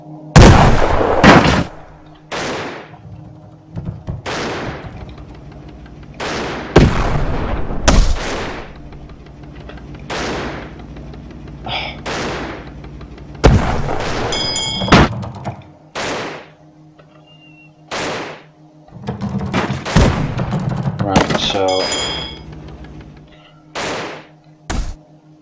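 Cannon fire in the airship battle game Airships: Conquer the Skies: repeated loud booming shots at irregular intervals, some in quick pairs, each with a sharp attack and short decay, with no speech.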